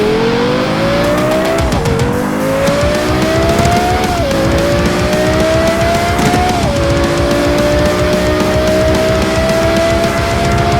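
A car driven hard on a road in Morocco, its engine close and loud, climbing steadily in pitch, dropping briefly at each of three gear shifts, then rising again.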